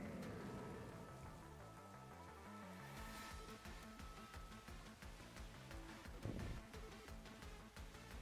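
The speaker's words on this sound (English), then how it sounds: "I feel like the rain's about to end here" Rain weather in a Pokemon video game battle: a steady, continuous rain hiss runs throughout, mixed with game music and sound effects, with no talking.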